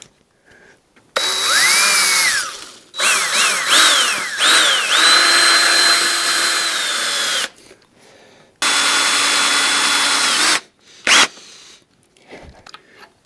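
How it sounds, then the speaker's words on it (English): A power drill whines loudly in long sustained runs, pitch rising and falling as it bites into the crankshaft of an Isuzu 4BD1T excavator engine, with brief pauses between bursts. "drilling right into your crankshaft like this"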